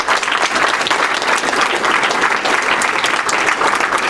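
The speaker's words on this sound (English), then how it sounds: "Round of applause." Sustained applause from a conference audience, a loud, dense and even roar of many hands clapping that fills the whole stretch with no talking over it.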